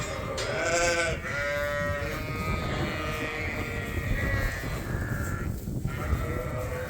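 Several sheep bleat repeatedly at close range as a farm gate opens to pasture, their calls overlapping against a steady background hum.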